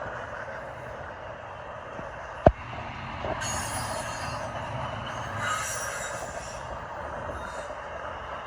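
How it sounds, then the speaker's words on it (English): A long Union Pacific intermodal freight train rolls through downtown in strong winter wind, a steady rumbling roar of railcars with a sharp clank near the start, continuing steadily close by with no talk. "Well, there's the end of the train."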